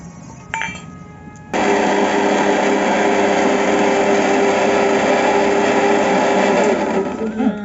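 A mixer grinder runs continuously, blending cut tomatoes after ginger and garlic paste, loud and steady after starting abruptly, with a brief clatter beforehand.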